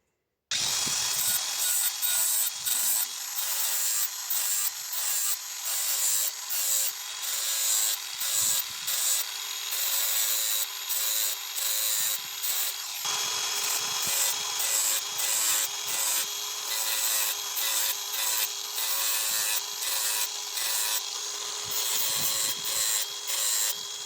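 A small utility blade scrapes residue off the blades of a Makita DUH754SZ hedge trimmer in a steady run of close, rapid rubbing strokes that carries on without pause and with no talk over it.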